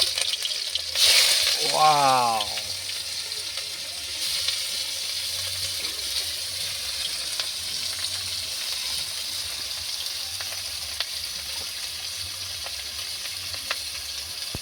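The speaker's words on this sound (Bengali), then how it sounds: "এই পেঁয়াজটা যতক্ষণ না হালকা লাল লাল হয়ে আসছে ততক্ষণ নাড়তে থাকবো" Onion frying in hot oil in a pot over a clay stove in a village kitchen, with a burst of sizzling as it drops in, then a continuous close hiss; a brief exclamation is heard near the start.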